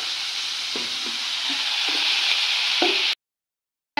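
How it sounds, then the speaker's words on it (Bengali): Fish frying in hot oil gives a steady, close hiss and crackle with a few soft clicks, running continuously before cutting off abruptly near the end. "এদিকে দেখো মাছ ভাজা হচ্ছে"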